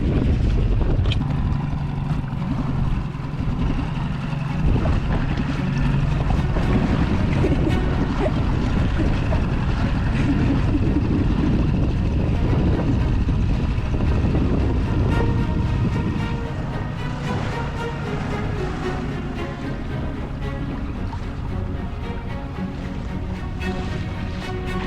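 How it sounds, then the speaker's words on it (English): A small inflatable dinghy's outboard engine runs steadily out on open water, a continuous close drone mixed with wind buffeting and water rush, with no talking. "We wanted to test our dinghy and the outboard engine."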